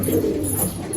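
Pigeons in a loft coo continuously in low, throaty murmurs, several birds overlapping into a steady warble close by.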